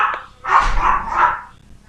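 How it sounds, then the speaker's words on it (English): A dog gives a short run of two or three loud, close barks, blurred together and heard on their own. "This dog don't shut the hell up."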